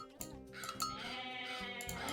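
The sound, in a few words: goats bleating in the video game Age of Mythology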